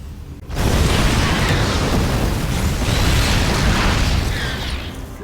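Siege tank explosions in a StarCraft II match roar as one loud continuous rumbling blast after a brief quiet moment, then slowly fade.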